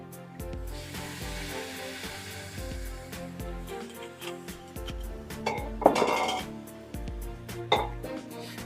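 Rice and vegetables stirred in a pan as white wine goes in to deglaze it, giving clattering utensil scrapes and clinks over a steady sizzle, with a louder burst of hissing and clanking partway through.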